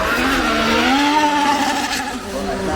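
A 1934 Japanese racing car passes by at the Goodwood Festival of Speed, its engine note rising and shifting as it goes by fairly close, with a commentator talking over it.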